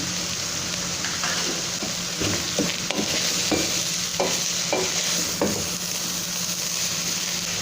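Eggplant sauce frying in a pan while being stirred, with a steady hiss under a series of separate scraping strokes spaced through the clip, close by and with no talking.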